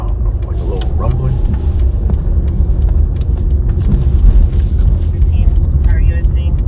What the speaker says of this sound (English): when the engine's running, I hear like a little, I don't know, like a little rumbling